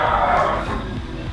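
Dogs barking and yipping at a crowded rescue shelter in Thailand housing around a thousand dogs, a loud, busy jumble of overlapping barks filling the short moment.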